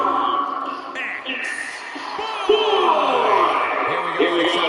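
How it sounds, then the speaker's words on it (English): Arena crowd in WWE 2K20 roaring and whooping throughout a wrestler's ring entrance, a steady dense cheer under loud commentary voices. "it sounds to me like the crowd is more than ready for this"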